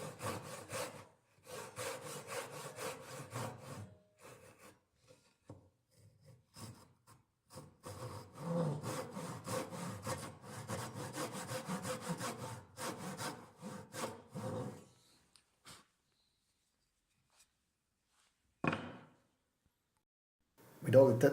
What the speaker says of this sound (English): I am cutting the depth cuts for the tenons